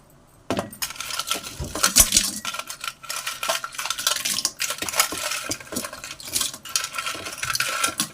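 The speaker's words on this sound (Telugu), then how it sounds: "ఇప్పుడు ముందుగా ఎండ్రకాయలు వేసుకుందాం" Crabs for a Nellore masala crab fry are tipped into a metal pot, giving a busy run of close, sharp clattering knocks and clinks that continue irregularly for several seconds with no talking.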